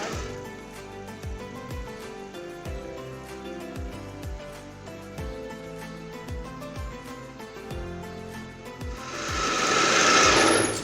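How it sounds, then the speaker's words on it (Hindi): Kitchen grinder motor whirring steadily while blending eggless garlic mayonnaise as oil is slowly poured in, with a regular rhythmic knocking throughout and a louder rushing surge near the end. "मैं यहाँ पर ग्राइंडर स्टार्ट कर रही हूँ"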